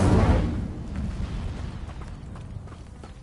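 A fire spell called Incendio is cast in a Hogwarts video game: a dull whooshing burst of flame at the start that fades into a low rumbling crackle, with no voices.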